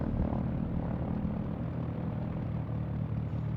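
A Piper Archer's piston engine and propeller drone steadily in the X-Plane 12 flight simulator, a constant close rumble without any talk.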